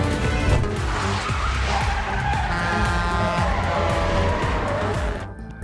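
Film car chase on a highway with a truck speeding alongside: loud, continuous engine roar with squealing, skidding tires and dense rumbling traffic noise, with no talk over it.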